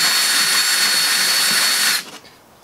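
A power drill spins a bolt wrapped in sandpaper to smooth the entrance hole of a wooden birdhouse, giving a steady high whirring grind for two seconds before it stops abruptly.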